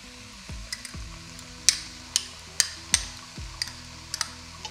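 A spoon scrapes and knocks against a pan in a series of sharp clinks while tomato paste and mustard are stirred in, with soft stirring and faint sizzling between the hits.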